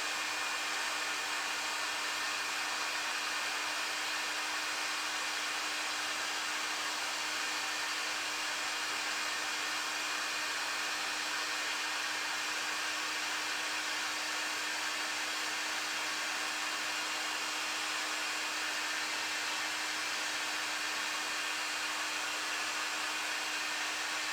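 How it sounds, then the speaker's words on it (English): A heat gun blows hot air over scratched old plastic, making a constant loud whooshing hiss with a steady whine under it. The sound stays even and close for the whole stretch with no talking. "Don't hold the heat gun too much in one place and use smooth motions to evenly distribute the heat on the surface of the plastic."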